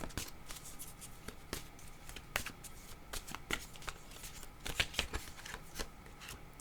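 A deck of cards being shuffled for a card reading, repeated crisp riffles and flicking snaps at an uneven pace, close and fairly quiet, with no talking.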